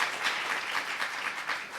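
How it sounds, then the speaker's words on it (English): An audience at a family-policy event claps in steady, dense applause, a continuous wash of many hands at moderate distance without any voice on top. "I want to give Yolanda, Dina, and Sherry a big round of applause for being trailblazers"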